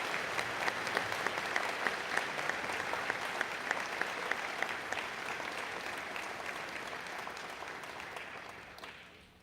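An audience at a school prize day ceremony gives a round of applause for Reverend Curry, dense steady clapping from many hands in a large hall that holds for several seconds, then fades out at the end.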